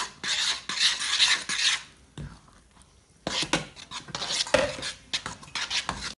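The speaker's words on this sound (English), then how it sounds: "then you just stir it into the butter mixture" Close, scraping stirs of flour into a butter mixture for Christmas biscuit dough, uneven strokes of a utensil against a bowl with short pauses between bursts.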